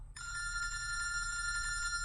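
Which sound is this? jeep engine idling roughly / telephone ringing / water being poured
telephone ringing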